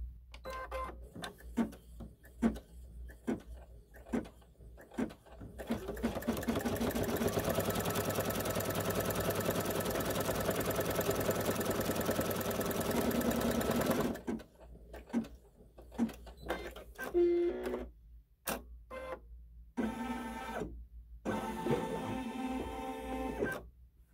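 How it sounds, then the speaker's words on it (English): A SweetPea embroidery sewing machine stitches around the outside edge of fabric on a haunted house quilt block, a steady whirring chatter that runs continuously for several seconds between bursts of short rapid ticking and clicking. "Now it's going to stitch around the outside edge and we will trim it off"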